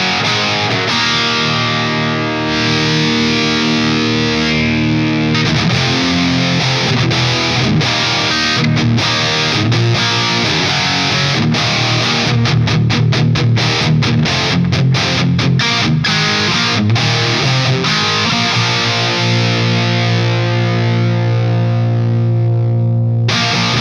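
An electric guitar through a pedal set to its red channel plays distorted chords and riffs, thick and saturated, loud and steady throughout with no talking.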